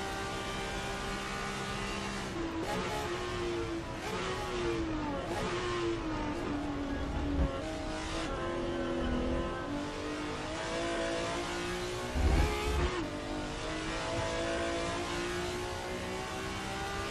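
Porsche and other GT race car engines in the rFactor 2 racing game at Le Mans, revving and accelerating hard through gear changes, a steady loud engine roar that rises and falls throughout, with no talking.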